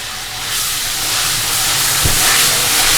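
Ginger garlic paste hits hot oil with onions, and a bright, hissing sizzle swells loud and close. It carries on steadily with one soft thump partway through.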